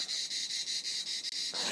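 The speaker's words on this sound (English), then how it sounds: "to listen to the cicada singing away in the background." A cicada or similar insect drones steadily in the background with a pulsing, buzzing rhythm, continuous and fairly loud, with no other sound.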